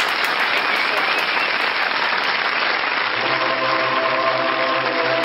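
Continuous applause from a group fills the space at a strong, even level, with a steady tone rising underneath during the last couple of seconds.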